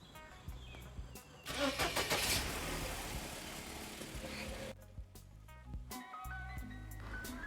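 A Mercedes W210 car engine cranks and catches, then settles into a steady idle, heard up close in a garage after a power steering fluid flush.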